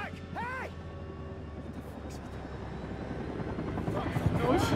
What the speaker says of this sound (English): How do you fly a helicopter that poorly?